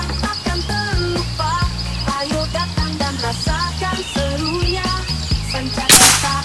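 One sharp crack from a Bocap Preda PCP air rifle fired in single-shot mode comes near the end, cutting through steady background music.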